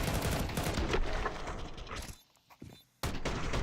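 Rapid pistol gunfire from a Counter-Strike esports match, a dense run of loud shots and clatter that breaks off into near silence for about a second before the firing resumes.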